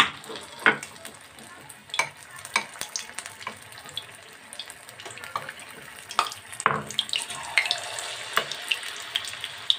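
Battered paneer for Paneer Manchurian crackles and sizzles in hot oil in a wok, with soft sputters and stirring clinks at a close, gentle level and no talking.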